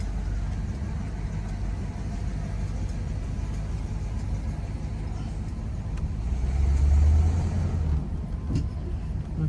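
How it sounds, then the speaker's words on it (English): A large vehicle rumbles past nearby, its low engine drone swelling briefly before fading, over steady road noise. "Let this truck go by."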